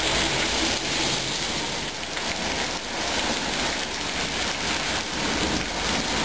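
Steady, dense rain pours down on a surface nearby, a continuous hiss and patter that never lets up.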